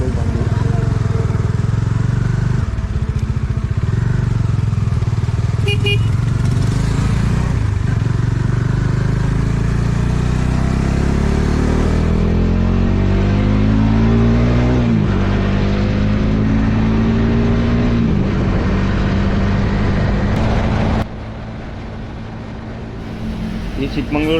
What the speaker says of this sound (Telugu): 3 కొత్త బైక్స్ వస్తున్నాయి